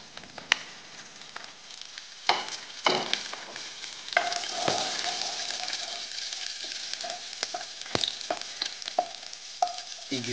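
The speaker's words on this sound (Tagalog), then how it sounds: "Igisa natin ang bawang." Garlic sautéing in a pan, a continuous close sizzle broken by scraping stirs and sharp clinks of a utensil against the pan.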